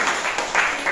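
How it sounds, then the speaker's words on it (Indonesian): A classroom claps for a student named Kevin, a short burst of dense applause from many hands that fills the whole second at a steady, fairly loud level. "boleh beri aplaus untuk Kevin"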